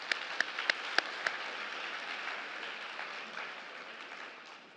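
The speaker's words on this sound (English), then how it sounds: "so a round of applause, please" Audience applause at a children's book congress closing ceremony, opening with a few sharp individual claps before settling into a steady, moderately distant wash of clapping that slowly fades.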